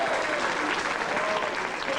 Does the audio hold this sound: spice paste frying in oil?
no